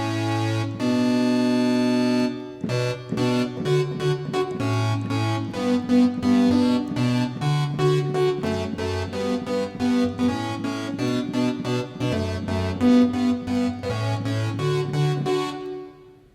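A pulse-wave synth pad from a worship keyboard tone, played without an arpeggiator, rings as sustained layered chords that change every second or so, loud and steady throughout, then fade out at the end.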